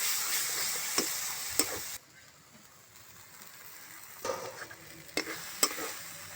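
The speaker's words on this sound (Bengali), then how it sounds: "দিয়ে আবারও এই টমেটোর সাথে ভালো করে জিরে গুঁড়োটা মিশিয়ে নিলাম" A spoon stirs cumin powder into tomato masala in a sizzling pan, with a few sharp scraping knocks over a steady frying hiss that quiets briefly, then resumes.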